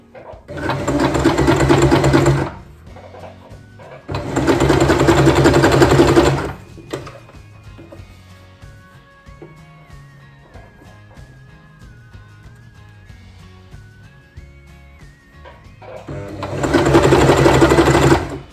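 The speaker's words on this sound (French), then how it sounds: "Et maintenant, je lance la couture." A sewing machine stitches a seam in three loud bursts of rapid, buzzing, mechanical running, separated by quieter pauses with faint handling sounds and tones.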